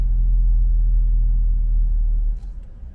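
Land Rover Discovery P360 on the move, a deep, smooth low engine and road rumble heard from inside the cabin that steady then drops in level near the end.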